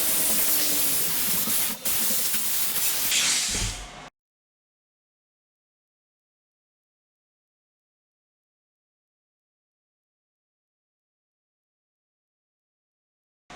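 Compressed air hisses loudly and steadily into a waste oil drain tank to pressurize it, a broad close rush lasting about four seconds with a brief dip, then cutting off abruptly to silence.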